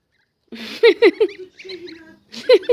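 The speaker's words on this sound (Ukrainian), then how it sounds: "Ну що це за гуси?" Geese honk in a yard in short nasal bursts, several calls in quick succession, loud and close with a brief pause between groups.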